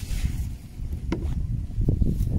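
Gusty wind buffets the microphone in low, rumbling bursts during spearfishing in the Philippines, with faint splashing water and a couple of brief clicks.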